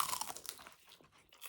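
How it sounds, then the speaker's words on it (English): Up-close crunching bites into Japanese KFC fried chicken, a few crisp crackly bursts followed by quieter chewing. "let me get close so you can, like, hear the crunch."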